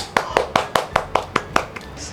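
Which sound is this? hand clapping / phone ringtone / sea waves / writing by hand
hand clapping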